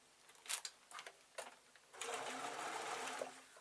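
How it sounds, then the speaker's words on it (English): Sewing machine stitching a line round folded fabric for a desk tidy: a few sharp clicks and taps first, then a steady continuous whirring run of the needle, close and fairly loud. "So now I'm going to fold it so it's inside out, and I'm going to run a line of stitches round here."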